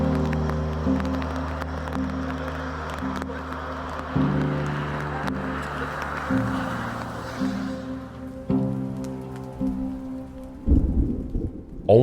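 Rain pours steadily in a Norwegian thunderstorm while thunder rumbles low several times. Sustained tones play over the rain throughout, and a louder burst comes near the end.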